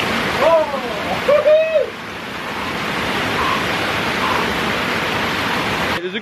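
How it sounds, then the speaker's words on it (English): A waterfall on the River Esk plunges into a plunge pool, making a steady, broad, rushing roar that fills the scene, with brief voices near the start. "Underneath, there's this plunge pool, a waterfall."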